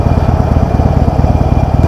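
A 2016 Harley-Davidson Sportster Iron 883 rumbling on a test ride, its low, throbbing engine pulsing steadily and loud at low revs with no voices.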